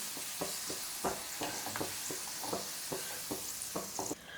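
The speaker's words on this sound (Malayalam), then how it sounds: "നമ്മുടെ ഉരുളക്കിഴങ്ങ് ആവശ്യത്തിന് ഫ്രൈ ആയിട്ട് വന്നിട്ടുണ്ട്" Potato pieces frying in hot oil in a pan sizzle steadily while a ladle scoops through them, giving a series of sharp scraping clinks over the constant crackle, close and fairly loud.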